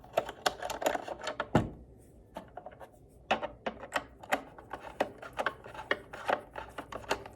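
Screws are worked loose from the door side mirror of a 2016 Hyundai Sonata, giving close, sharp clicks and ratcheting scrapes in quick irregular bursts with a short pause midway.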